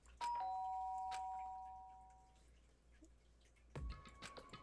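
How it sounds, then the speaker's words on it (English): A chiming electronic doorbell rings in a video game, its tones ringing out and fading, followed by a second chime a few seconds later in a quiet room. "Did I hear the doorbell?"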